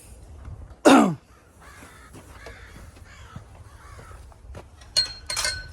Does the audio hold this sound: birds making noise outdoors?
yes